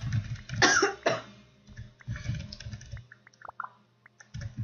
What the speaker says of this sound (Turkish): Kedim öksürüyor.